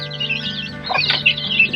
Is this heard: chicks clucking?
yes